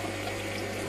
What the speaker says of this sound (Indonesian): Itu ada 4 chamber dan airnya dipompa naik